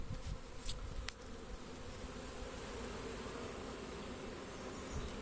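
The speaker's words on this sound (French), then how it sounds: "Les abeilles sont en train de se regrouper." A honeybee swarm regroups in a cardboard box that has fallen to the ground, giving a steady, dense buzzing hum of many bees close by that carries on alone with no voices.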